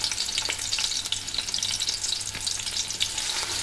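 Ginger and garlic sizzle in hot oil with whole garam masala spices for chicken tikka biryani, giving a dense, steady crackle with occasional spatters and stirring scrapes, close and continuous with no speech.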